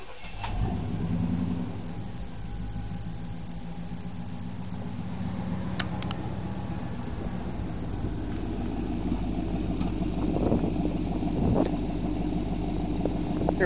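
A 1987 car engine idles steadily through 3-inch chrome exhaust collectors, a low, even rumble that holds close and fairly loud throughout, with a few faint clicks and slight swells in pitch.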